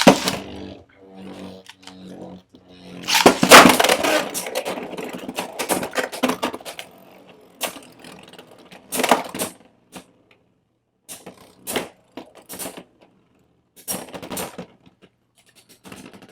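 Competitive Beyblade X spinning tops clash in a stadium, Scythe Incendio among them, with bursts of sharp clicking and rattling impacts separated by quiet gaps, loud at first then in short scattered flurries.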